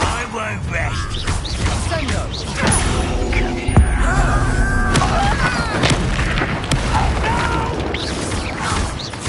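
Confringo blasting spell in Hogwarts Legacy, a deep booming blast that rings out amid dense, loud battle noise, with voices calling out over the mix.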